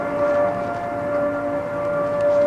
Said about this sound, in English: Someone had set off Harrisburg's civil defense alarm